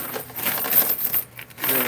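Quarters clatter and clang as they drop through the slots of an arcade coin pusher machine, a dense, bright metallic jingle of many coins close by, with a brief pause before more spill.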